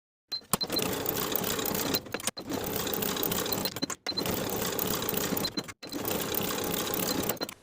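A sewing machine stitches waistband seams in four steady bursts of rapid mechanical whirring, each a couple of seconds long and separated by brief pauses, heard close and alone.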